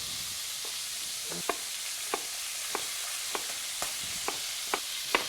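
Beef browning in a pan gives a steady hiss of frying, with faint, evenly spaced clicks and taps from stirring running through it. No voices are heard.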